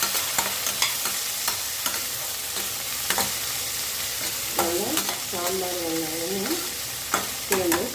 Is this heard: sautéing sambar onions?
yes